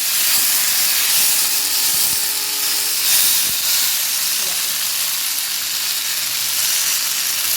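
Fish curry masala with chillies sizzling in a pan as it is stirred, a loud continuous hiss and crackle of frying with occasional scraping clinks of the utensil.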